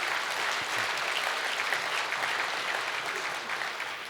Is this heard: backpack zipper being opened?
no